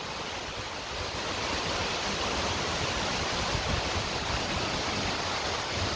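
Water roars from the Acqua Fraggia waterfall and its flowing stream, a loud, dense, unbroken rushing wash heard close, with no talking.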